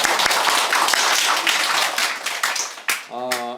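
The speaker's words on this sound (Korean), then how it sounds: "하나님 앞에 박수." A church congregation at a gospel meeting claps together in a thick burst for about three seconds, then a voice briefly cuts in as the clapping fades.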